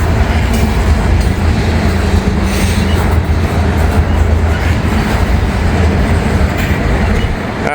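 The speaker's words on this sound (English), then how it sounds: "Got a full grain train and he's just a crawling." A fully loaded Canadian Pacific grain train crawls past slowly, its steady low rumble and rolling wheel noise close and loud throughout, with no talk.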